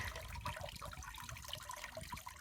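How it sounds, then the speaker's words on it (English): Water pouring and trickling as a houseplant pot is lifted and drained, a steady splashing flow running throughout at close range with no talk. "And now I'm just going to pull it out and kind of drain the water."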